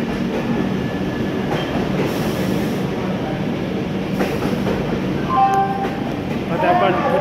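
Howrah–New Delhi Rajdhani Express pulling out of Asansol Junction, a steady rumble of rolling coaches with faint clattering wheels and brief squeals near the end, continuous and fairly close.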